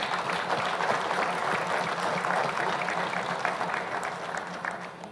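A crowd applauds young people at the opening of NTC 2019, a thick, even roar of many hands clapping without a break, with no voices on top, easing slightly at the very end.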